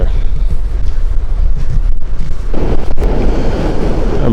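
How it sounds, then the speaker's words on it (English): Strong gusts of wind sweep across Ocean Shores beach, buffeting the microphone with loud, rough low roaring that swells and surges, and waves are likely churning underneath. "the wind is really picking up"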